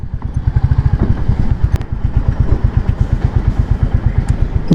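A Royal Enfield Classic 350 Next Gen single-cylinder motorcycle thumps close by with a steady, rhythmic low pulse, loud and even throughout, with no talk over it.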